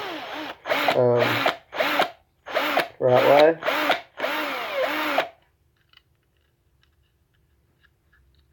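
A power drill whines in several short, loud bursts of varying pitch, close up, drilling a 1:64 diecast car, followed by near silence; a brief spoken remark is heard.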